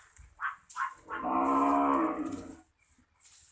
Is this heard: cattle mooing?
yes